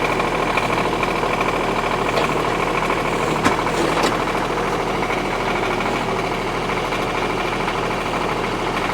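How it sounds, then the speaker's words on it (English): A Kioti CS2520S compact tractor's diesel engine idles with an even, steady rumble, close and constant, with a brief click partway through. "I'm going to go ahead and start the tractor up"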